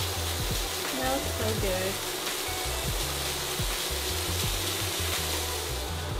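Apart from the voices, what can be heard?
bacon frying in a pan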